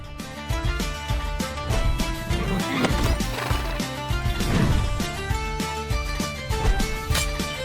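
Horses in the video game Rustler whinny and neigh over clip-clopping hooves, loud and close, layered with a busy game music and effects bed throughout.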